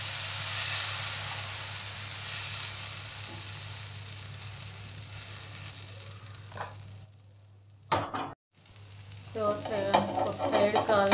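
Karam dosa sizzles and fries on a hot griddle, a steady hiss that drops briefly, then returns with scraping and stirring sounds near the end; no talk.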